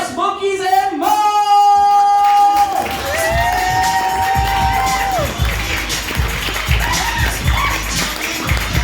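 Audience at an improv comedy show cheering and shouting as a team is introduced, a loud crowd burst with a whoop and scattered clapping that stays continuous throughout.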